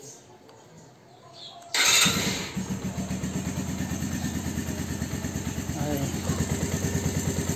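A Suzuki Yes 125 motorcycle with fresh oil, a new air filter and a clean spark plug starts abruptly, then settles into a steady, even idle close by. A voice says a brief word near the start.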